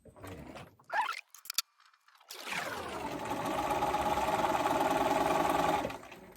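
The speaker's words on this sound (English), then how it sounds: "We're going to start stitching on the inside of the strap where the two folds come together." A sewing machine stitches binding along the inside of a romper strap, a few short mechanical clicks and pauses followed by a sustained, steady motor whir for about three seconds before it stops.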